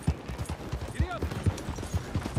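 Horse hooves clip-clop in a steady trotting rhythm in Red Dead Redemption 2, close and moderately loud, with a brief whinny-like sweep in the middle.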